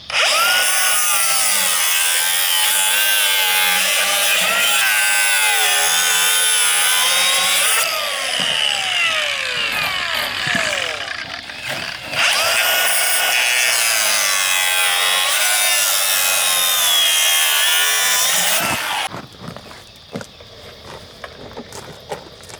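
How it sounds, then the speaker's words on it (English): Angle grinder cutting through drainage pipe for a retaining wall, a loud, continuous high-pitched whine with a shifting tone, a brief dip midway, then an abrupt stop leaving quiet handling noises. "My reciprocator saw just died, so I'm gonna have to use an angle grinder."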